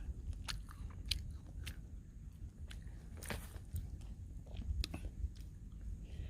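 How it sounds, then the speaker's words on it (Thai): Wild blackberries being bitten and chewed outdoors near the sea, giving soft repeated crunchy bites and chewing at close range, fairly quiet with light rustling in the background. "กินแบล็คเบอร์รี่ป่าก่อน"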